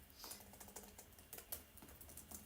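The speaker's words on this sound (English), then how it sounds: "Let me type this in real quick." Someone types on a computer keyboard, producing quick, irregular clusters of light key clicks that are close but very quiet, with no talking.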